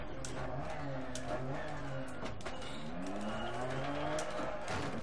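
Rally car in DiRT Rally struggling along a stage, its engine droning steadily with shifting pitch as revs rise and fall, tires scrabbling and squealing over the surface, alone and loud throughout with no talk.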